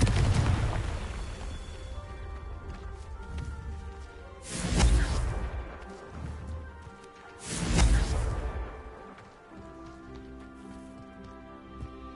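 Two heavy blasting-spell explosions in Hogwarts Legacy on PS5 boom out a few seconds apart, each a loud broadband burst that fades over a bed of steady ambient game sound.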